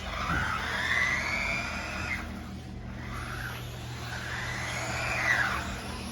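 A UDIRC 1/16 Breaker 4WD RC truck on rubber tires scoots around an indoor floor, its small electric motor whining steadily and rising and falling as it accelerates and slows, close and continuous with no talk.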